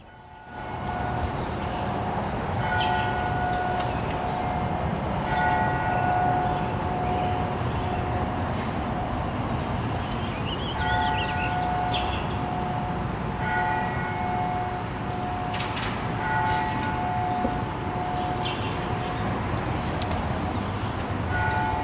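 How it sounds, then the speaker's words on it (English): An Angelus church bell tolls at a steady, repeating rhythm over a constant low rumble, the strikes carrying clearly through the whole stretch. "let's all take a second and listen to the Angelus bell."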